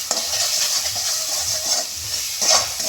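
Spicy chili-laden spice paste for a dried fish curry fries and sizzles steadily in a pan, with a rhythmic scrape of stirring repeating every half second or so, close and fairly loud.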